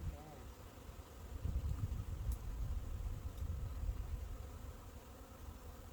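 A dense, low droning buzz of a bee swarm moving between traps surrounds the listener, swelling and fading with gusts of wind.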